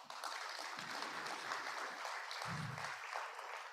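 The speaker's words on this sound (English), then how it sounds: "Applause for all of us." Audience applause fills a hall at an energy transition event, a steady dense clapping wash sustained throughout with a brief low thump partway through.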